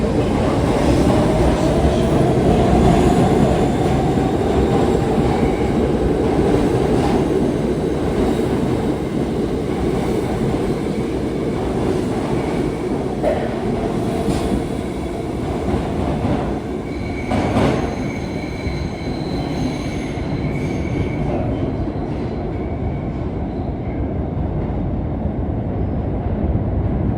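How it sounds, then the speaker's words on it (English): A New York City subway train on the 1 and 2 lines at the South Ferry terminal rumbles steadily and loudly throughout, with metal wheels squealing at high pitch over the running noise. No one speaks. "There is an uptown local 1 train to Brooklyn."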